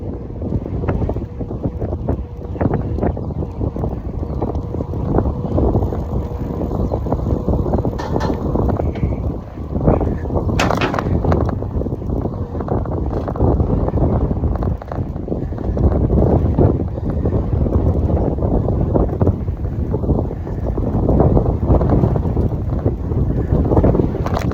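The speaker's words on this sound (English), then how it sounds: "That wind is coming on strong" Strong wind buffets the microphone on a bay-side bike trail, making a loud, constant low roar with gusty surges throughout and no clear speech.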